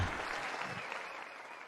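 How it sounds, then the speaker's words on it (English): A steady wash of clapping from a crowd fills the whole moment, even and continuous without voices. "I was beaming the applause to you"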